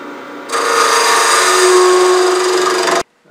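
A lathe tool parts off spinning wood with a steady, loud scraping whine that starts suddenly, holds for a few seconds, then stops.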